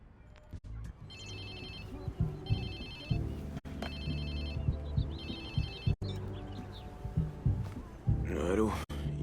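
A telephone rings in the video game Watch Dogs 2, repeated high bursts of ringing recurring about every second and a half over a steady low engine-like rumble and game sounds, with brief sharp thuds between rings.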